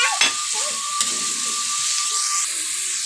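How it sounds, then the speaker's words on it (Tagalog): Hotdog and potato pieces drop into a hot pan of menudo, setting off a loud steady sizzle and hiss of frying with a brief clatter as they go in, continuing close up without talk. "ilagay yung hotdog, saka itong patatas natin para madali na maluto yan"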